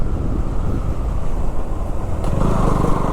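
KTM Duke motorcycle engine roars steadily on a forest road during a monsoon ride, a continuous loud drone mixed with wind noise, rising slightly toward the end.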